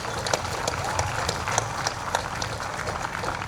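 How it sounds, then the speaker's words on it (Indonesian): A crowd at a school flag ceremony for National Education Day in Biak Numfor applauds, dense overlapping clapping at a steady level across the whole moment, with a faint voice underneath. "mari kita berikan aplaus untuk kita semua"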